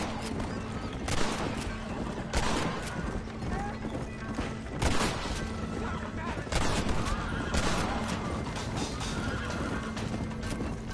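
Gunshots in Red Dead Redemption during a fight at Fort Mercer, sharp bursts spaced a couple of seconds apart over horse whinnies, hoofbeats and a steady game backdrop.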